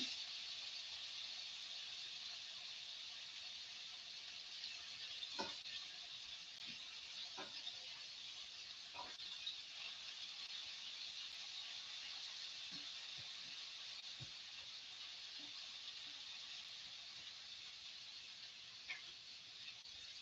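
Chicken frying in a pan in a home kitchen gives a quiet, steady sizzle and hiss, broken by occasional faint pops and small clatters.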